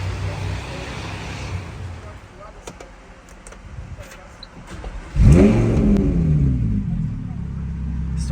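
A Lamborghini Huracan engine cranks and roars to life, revving up to a loud, steady idle after a quiet stretch with some clicks and faint sounds.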